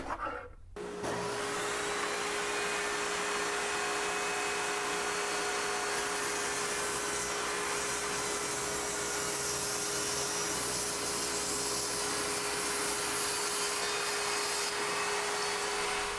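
A SKIL job site table saw rips a piece of red oak, its motor whining steadily and loudly for the full stretch after a brief quiet start, with the blade's cutting noise running continuously underneath and no talking.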